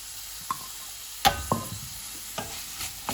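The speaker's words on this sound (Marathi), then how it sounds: "आनी आतां हे स्केप्स घालता बरें मिक्स कर" Garlic scapes stirred in a pan with pepper and carrot: a faint background sizzle broken by a few sharp utensil scrapes and clacks against the pan, spaced out, close and without speech.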